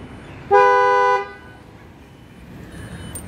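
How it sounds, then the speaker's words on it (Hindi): A loud dual-note horn on a Volkswagen Vento blares once for about half a second, steady and close, then cuts off into quiet background. "अब आप इसके हॉर्न को सुनना कितना तेज़ हॉर्न है ये"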